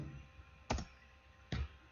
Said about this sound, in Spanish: la tecla control, que está en la parte superior izquierda de su teclado, en la parte inferior izquierdo de su teclado, no lo soltamos y presionan la barrita horizontal de espacio